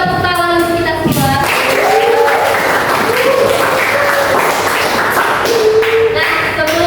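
Students in a classroom break into applause, a short burst of clapping mixed with taps and thumps while voices talk over it throughout.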